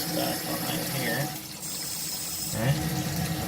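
Water streams steadily from a Kohler Katun shower valve, a continuous hiss and splash filling the whole clip, with someone talking faintly over it.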